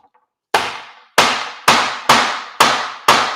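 A mallet strikes a coconut resting on a towel, six sharp thuds at roughly half-second intervals, each with a short ringing decay, loud and close with no talking.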